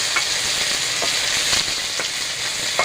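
Bay leaf, whole cumin and cumin, chilli, ginger-garlic and onion pastes frying in a pan: a loud, dense, continuous sizzle with occasional soft spatula strokes.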